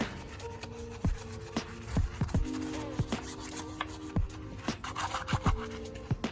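Scrubbing caked parts on a BMW X5 with a hard bristle brush, heard as scratchy rubbing strokes in an uneven rhythm, close by at a moderate level.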